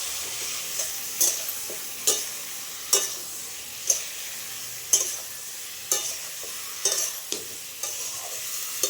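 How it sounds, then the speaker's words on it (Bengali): Chopped potatoes and ridge gourd are stirred into cooked spices in a pan, giving a soft steady sizzle punctuated by about a dozen crisp scraping strokes at a fairly even, unhurried rhythm. "এবারে কেটে রাখা আলু আর ঝিঙেটা দিয়ে দেবো, দিয়ে একটু ভালোভাবে নেড়ে ছেড়ে নেবো।"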